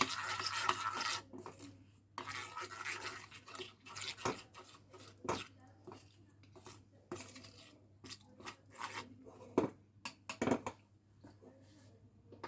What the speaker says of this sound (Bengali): দিয়ে এটাকে খুব ভালো করে ফেটিয়ে নিতে হবে।